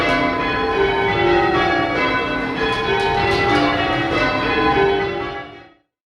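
Church bells ring out loud and resonant in a steady sequence of overlapping strikes, their tones hanging in the air before the peal ends and fades to silence.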